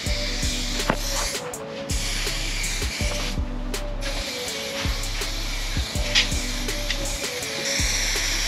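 A spray gun hisses steadily while clear coat goes onto a Dodge Charger hood, a continuous close airy spray with a low mechanical hum and periodic rhythmic bursts underneath.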